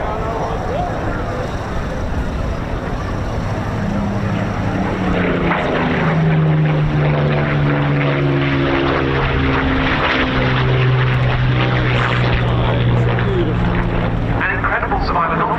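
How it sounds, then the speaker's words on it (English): A Spitfire propeller fighter from the Royal Netherlands Air Force historic flight flies at the RAF Cosford air show, its engine drone rising and shifting in pitch as it passes, with a commentator talking over it. "the Spitfire."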